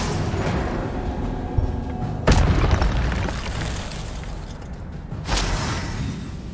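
Incendio fire spell cast in the video game Hogwarts Legacy, heard as a sharp whooshing burst that flares up twice over a dense, rumbling game soundscape.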